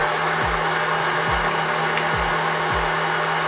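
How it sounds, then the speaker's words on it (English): A stand mixer whips egg whites with cream of tartar and salt on high speed, a loud steady motor whir with rhythmic beater thumps repeating about once a second, close up with no voices. "Now, while the mixer's running,"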